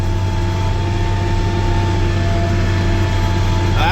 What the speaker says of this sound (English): Except today we're plowing with 2 tractors.